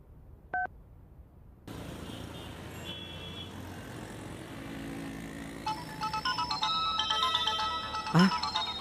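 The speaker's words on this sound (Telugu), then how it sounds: "ఎన్నిసార్లు ఫోన్ చేసినా ఎత్తరేంటి?" A mobile phone ringtone plays in a Telugu dubbed movie scene, a melodic electronic tone that grows louder and busier, preceded by a short beep and heard over room background.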